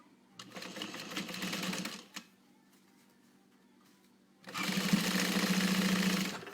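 A sewing machine stitches a quarter-inch seam on a fabric pouch, running in two quick rhythmic bursts, one short and one longer, separated by a quiet pause and close to the microphone.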